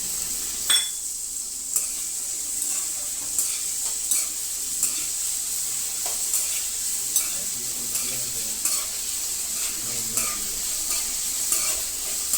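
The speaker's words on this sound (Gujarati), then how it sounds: "અને આપણે 2 મિનિટ તેલમાં સોટે થવા દેશું" Peanuts sautéing in hot oil for a fasting samo khichdi, a constant bright sizzle with light, regular stirring clicks of a spoon in the pan, close and with no talking.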